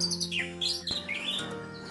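A white-rumped shama (murai batu) in post-moult condition gives a short burst of close, clear whistles and chirps with rapid rising and falling notes, sounding alone.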